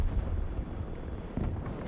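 A grenade goes off in the Battlefield video game, a loud low rumbling blast that rolls on for the whole moment, with a second thump swelling near the end.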